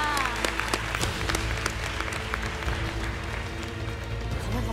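Studio audience applauding steadily and loudly on a Thai televised singing competition show, a dense continuous wash of clapping throughout.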